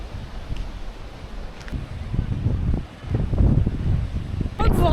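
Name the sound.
strong wind in the south of France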